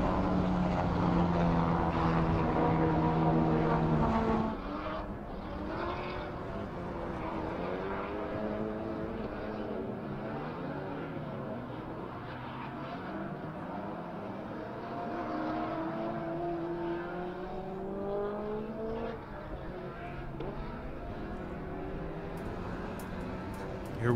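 Twin overhead cam V6 mid-engine race cars lapping Circuit of the Americas during a 2019 super lap battle, engines droning steadily with rising and falling pitch as they pass, one louder car up close at first, then a continuous mid-distance roar.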